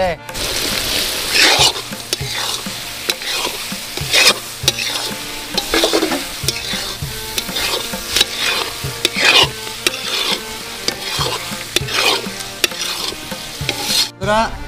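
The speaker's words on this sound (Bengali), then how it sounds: "ভাজা মাছগুলো, কুচো মাছগুলো আমরা এবার মশলার মধ্যে ঢেলে খানিকটা কষে নেব" Fried small fish are stir-fried into a spice paste in a pan, loud sizzling broken by repeated scraping strokes of a spatula in an irregular rhythm throughout.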